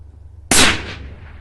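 A single sharp rifle shot from a rifle fitted with a Valdada G2 scope and resting on a bipod, loud and close, cracking once and then trailing off into a brief echo.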